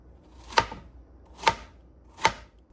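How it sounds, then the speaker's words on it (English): A knife slicing plantain into rings on a cutting board, three crisp chops at an even, unhurried pace, close and distinct against a quiet background. "I cut this into rings."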